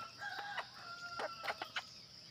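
A small backyard flock of five laying hens clucks and calls close by. Short sharp squawks and drawn-out cackles come in quick, irregular bursts over a quiet background.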